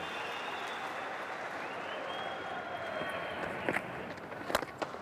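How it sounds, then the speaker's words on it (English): A stadium crowd at the Gabba roars and applauds steadily for cricketer Steve Waugh during a Test match against India, a broad continuous wash of cheering with a few sharper claps and bumps near the end. "a lot of people here on their feet giving him a good cheer"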